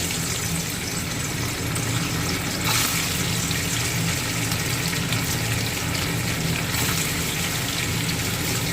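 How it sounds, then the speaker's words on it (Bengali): Paneer frying in hot mustard oil in a wok, a loud, dense and steady crackling hiss that fills the whole stretch at close range, with no voices. "সর্ষের তেলটা গরম হয়ে গেলে ওতে পনির দিয়ে ভেজে নেব"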